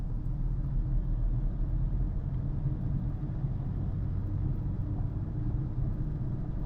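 Steady low rumble of a car driving through city streets in Chennai after shifting into third gear, engine drone and road noise continuous and fairly quiet throughout.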